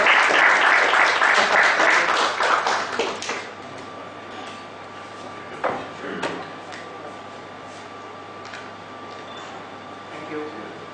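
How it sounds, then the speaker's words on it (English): Applause from a crowd fades out over the first few seconds, leaving a quiet room with a few scattered knocks and faint background murmur. "Big round of applause, ladies and gentlemen."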